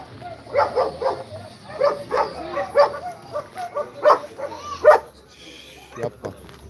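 German shepherd dogs at a dog show bark in a run of sharp, loud bursts, some mixed with yips and whimpers, over a busy indoor hubbub, then fall quieter near the end.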